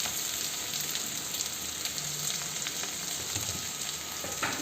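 Onions sauté in hot oil in a pan for chicken curry, giving a steady, close sizzling hiss with faint stirring clinks and no talk.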